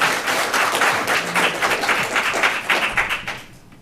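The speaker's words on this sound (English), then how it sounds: "should have saved your applause to the end" Town hall meeting audience applauding, a steady burst of many hands clapping at moderate distance that fades out toward the end.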